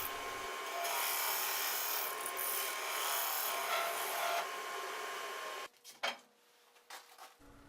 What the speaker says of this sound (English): I switch to the carbide pointed tool to shape the top of the egg.